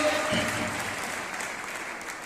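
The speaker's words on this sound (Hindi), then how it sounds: "अवनी सर और के सर के लिए जोरदार ताली लगा दीजिए" An audience at a company meeting applauds steadily for two honored colleagues, a dense wash of clapping that holds at an even level throughout the short stretch.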